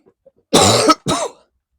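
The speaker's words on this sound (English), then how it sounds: "Sorry, I've got my proper cough back again." Two harsh, throaty coughs close to the microphone, the first longer and the second shorter, with near silence around them.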